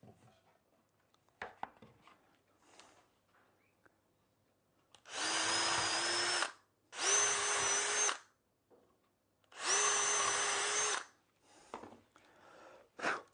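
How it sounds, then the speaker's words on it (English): A power drill bores screw holes in wood in a woodworking shop, three loud, steady whirring bursts of about a second and a half each, with light knocks and handling sounds between them. "Now we've got these holes drilled"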